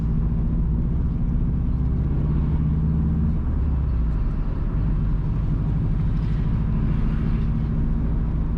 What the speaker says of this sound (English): Currently, we are driving south from Dump towards Bryce